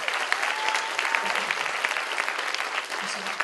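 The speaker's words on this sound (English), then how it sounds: "please give yourself a nice round of your own applause" A theatre audience gives a lively round of applause, steady and fairly distant, with scattered sharper claps and faint voices mixed in.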